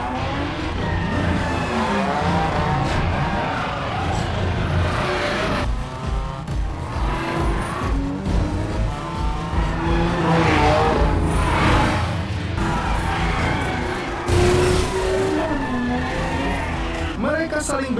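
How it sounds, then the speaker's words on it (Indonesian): Cars street racing down a mountain road in a Fast and the Furious film, engines roaring and tires squealing continuously over dense cinematic sound and music, loud and sustained throughout. "Dari atas gunung, balapan pun dimulai."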